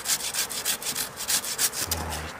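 Hand sawing of pine wood outdoors on a mountainside, a quick steady rhythm of rasping back-and-forth strokes close by, with no talking.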